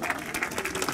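A crowd applauds steadily for about a second at a motorcycle race podium ceremony at Cremona Circuit, a dense wash of clapping at moderate volume.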